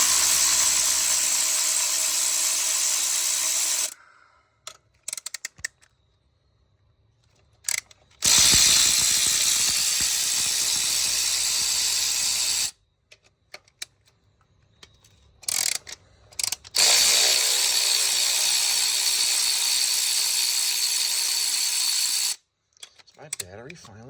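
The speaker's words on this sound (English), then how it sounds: "My battery finally going low on a good old snap-on." A cordless Snap-on ratchet on a weak battery, used on bolts of a Fiero GT engine, whirs loudly and close in bursts of several seconds, stopping and restarting with short clicks and quiet gaps between.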